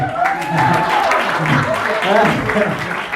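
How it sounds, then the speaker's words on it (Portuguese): Applause from the audience at a hypnosis seminar, steady and fairly loud across the whole stretch, with voices talking over it. "Palmas para esse pessoal"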